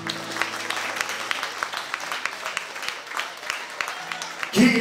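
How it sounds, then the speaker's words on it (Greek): An audience applauds a performer at a Greek island-music show, with dense steady clapping lasting several seconds, close and fairly loud, and a brief voice near the end. "Λοιπόν, ένα χειροκρότημα."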